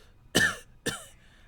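Two separate coughs about half a second apart, each a sharp, harsh burst trailing off quickly, close and clear against a quiet background.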